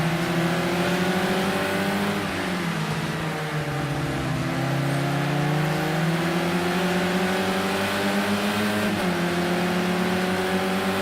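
Several race car engines roar together in a sim racing game, sustained high revs with layered, shifting pitches as cars run close in a pack, loud and steady with no talk.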